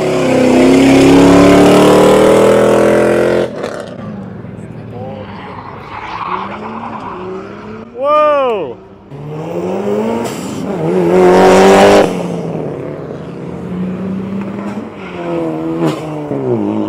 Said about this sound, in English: That is the best sounding Civic I've ever heard.